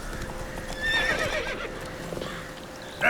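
Geralt's horse Roach from Witcher 3 neighs in a clear whinny over steady hoof clip-clop, close and fairly loud, with game ambience underneath.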